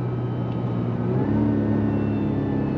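Engine of a 2024 Mazda CX-90 midsize SUV accelerating hard on throttle, heard from inside: a steady, loud mid-range rumble with harmonic engine tones climbing slightly through the whole stretch, no speech.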